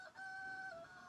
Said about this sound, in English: You hear that little rooster call?